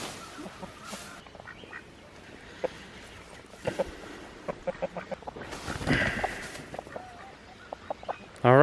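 Chickens clucking in a barn with straw bales and a duck nearby, scattered short clucks and calls at moderate distance, with rustling and a louder burst near the end.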